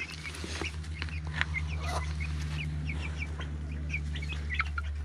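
Chickens cluck close to a coop, a run of rapid, repeated clucks over a steady low mechanical hum, with no talking.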